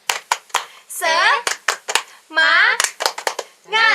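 Sharp hand claps beat out a quick rhythmic pattern, alternating with children chanting in unison, loud and close.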